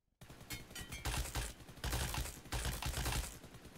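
Automatic gunfire sprays in PUBG Mobile while aiming through a 3x scope, a dense continuous rattle of rapid shots running for several seconds.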